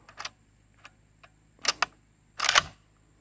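The bolt of a Zastava PAP M77 rifle in .308, an AK-pattern gun, pulled back to its hold-open notch, heard as a few close, sharp metallic clicks and clacks with quiet gaps, ending in a louder rasping slide and catch.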